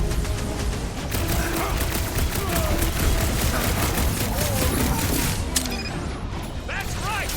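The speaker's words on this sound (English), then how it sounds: "Feels like I've been shooting that big bot for hours!" Rapid, dense gunfire from the Guardians of the Galaxy video game, blasting at a big robot amid mechanical clanks and whirs, loud and continuous with a few effect sweeps near the end.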